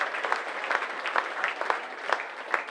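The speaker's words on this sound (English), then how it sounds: "Generous applause, but" A stadium crowd at a rugby league match between Oldham and Widnes gives steady, generous applause as an injured Widnes player is carried off, a dense continuous clapping with no voices standing out.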